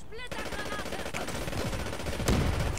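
Rapid automatic gunfire from a first-person shooter game, a dense rattling burst running through the whole stretch with a louder crack near the end, mixed with faint game effects.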